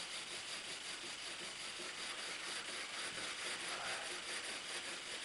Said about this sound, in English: And sand the ridges off.